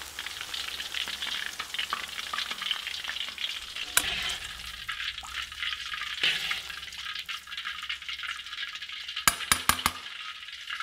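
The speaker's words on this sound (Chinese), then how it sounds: "姜葱熬制成金黄色之后捞出不用。" Ginger and scallion fry in rapeseed oil with a steady, close sizzle. A few sharp clinks of stirring break through near the end.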